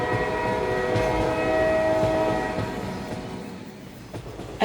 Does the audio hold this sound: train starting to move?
yes